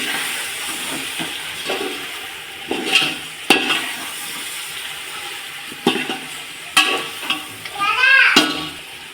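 Chicken coated in biryani masala, chili powder and yogurt is stirred in a pan over a low flame, with a soft sizzle and irregular scraping and sloshing bursts of the spoon against the pan.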